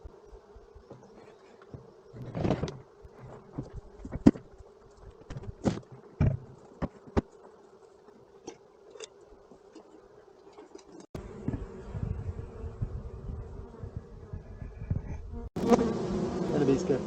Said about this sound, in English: We got bees.